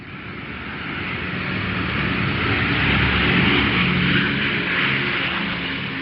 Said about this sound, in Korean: 비행기가 가벼운 난기류를 만났다.